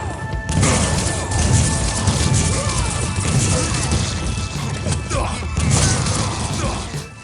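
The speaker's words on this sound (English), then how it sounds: "Number 1. The rocket launcher." Rocket launcher fire in the 1999 arena shooter Quake 3, heard as loud, dense crashing blasts and explosions rolling one into the next for the whole stretch, close and forceful.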